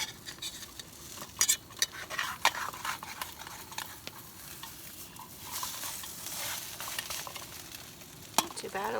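Bacon frying in a pan at a lakeside kayak camp, a steady close sizzle broken by scattered clicks and scrapes of a utensil moving the strips around.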